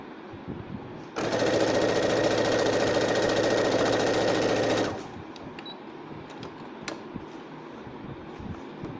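A sewing machine stitches darts on the back piece of a blouse in one close, rapid burst of rattling chatter lasting about four seconds, then stops, leaving quiet handling noises.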